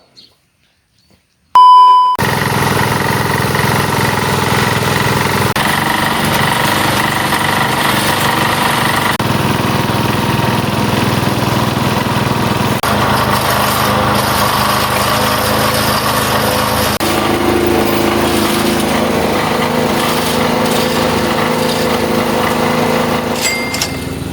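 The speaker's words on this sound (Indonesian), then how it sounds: "pengerjaan sumur bor menggunakan mesin" A loud well-drilling machine engine drones steadily and close by, a constant mechanical roar that starts abruptly after a moment of near silence.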